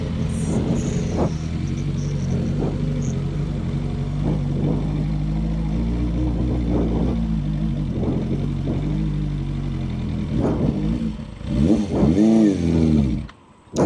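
A motorbike nicknamed Bandit labors over a rough rural road in Sitio Baag, San Jose, Tarlac, its mid-pitched engine rumbling steadily with repeated rev surges, then a final burst of revving before the engine cuts out near the end.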